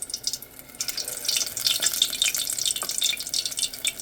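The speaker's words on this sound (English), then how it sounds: "See that sizzle?" Beer-battered shrimp, shells left on the tails, dropped into hot frying oil over medium heat, giving a steady bright hiss and crackle that swells as the pieces go in and stays dense without any talking.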